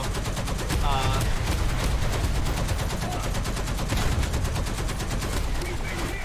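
Machine gun fire in the combat video game War Thunder, loud sustained bursts of rapid shots with dense rattling over a heavy low rumble, continuous throughout.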